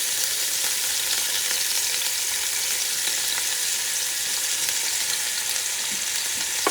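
Onions and garlic sizzle steadily in a hot pan while being stirred, a dense continuous frying hiss with occasional soft scrapes, close and fairly loud with no talking.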